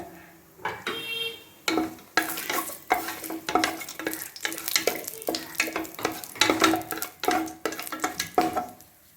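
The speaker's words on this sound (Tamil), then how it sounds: "இப்போ பட்டை, லவங்கத்தெல்லாம் அதில் போட்டுக்கணும்" Cinnamon, cloves and bay leaf dropped into hot ghee for ghee rice, sputtering and crackling up close in irregular bursts with clinks of a spoon against the pot, no one talking.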